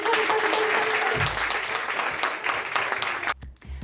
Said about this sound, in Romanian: vă rog să aplaudați cât de tare puteți voi